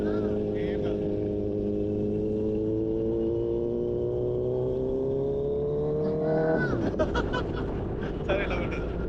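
A Kawasaki Z900 motorcycle's exhaust drones steadily and close by, its pitch creeping upward as the engine revs. It then shifts abruptly into a rougher, choppier revving burst near the end.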